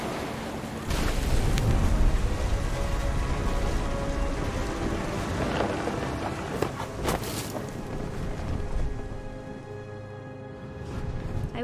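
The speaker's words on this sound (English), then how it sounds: "The thunder sounded much too close and full of angry power" Wind and rain churn through a thunderstorm in What Remains of Edith Finch, a continuous rumbling wash with deep low roll, a few sharp crackles in the middle and the storm easing slightly toward the end.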